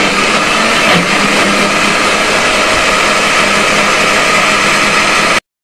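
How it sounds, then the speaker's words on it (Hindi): An electric mixer grinder grinds browned fried onions with yogurt, a steady loud whirring drone that runs unbroken for several seconds before cutting off abruptly. "अब इसको हम दही में डाल के ग्राइंड करेंगे"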